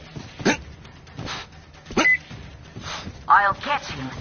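A dog in the video game Metro Exodus gives several short barks and yips spaced a second or so apart, fairly close, mixed with game sounds and voices.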